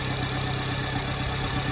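A Subaru Sambar engine idling lean after a timing adjustment, a steady low mechanical hum with faint uneven pulsing, close and continuous.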